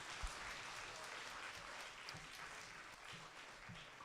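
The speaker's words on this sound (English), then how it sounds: "Let's give contestant 10 a round of applause there." Audience applause at a school spelling bee after a contestant misspells a word, a steady broadband patter of many hands clapping at moderate volume for several seconds.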